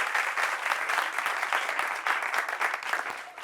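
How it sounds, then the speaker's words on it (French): An audience claps steadily as a man steps forward at a French-language talk show taping, a brief dense burst of applause with no voices over it. "On l'applaudit pendant qu'il arrive."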